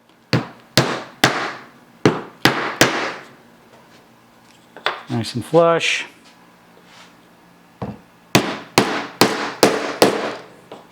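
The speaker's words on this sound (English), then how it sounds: "We just got to hammer these in." Sharp hammer blows strike wooden dowels into wood in quick bursts of several hits each, loud and close, with a short spoken remark in between.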